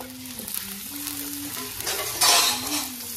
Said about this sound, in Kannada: ನೀರುಳ್ಳಿ ಹಂಚಿರ ಹಂಚಿ ಕಂದು ಬಣ್ಣ ಬರಮಟ ಹಂಚಿ ಮಲ್ಪೋಡು